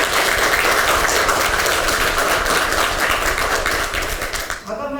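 Sustained applause from a crowd at a political party's 8th founding anniversary ceremony in Korea, dense steady clapping throughout that thins slightly near the end.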